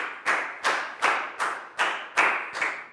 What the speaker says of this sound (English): Big round of applause for Lacau, guys.